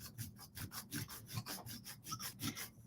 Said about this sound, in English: If you use your sandpaper face up on a hard surface, it creates like a little anvil.